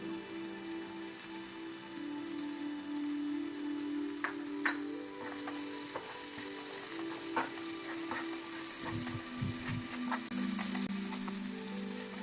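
Garam masala and chole masala powders fry in a pan with a steady, close sizzle, a few sharp clicks of a utensil against the pan partway through, and no voices.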